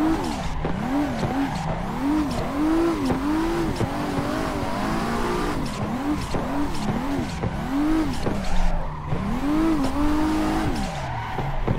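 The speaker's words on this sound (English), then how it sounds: "det her er da bilen vi kjører i dag. Det er i hvert fall en Lexus." A Lexus drifts in the Assetto Corsa racing game, its engine wailing up and down in pitch while the tires squeal through continuous slides, loud and steady, with no talking.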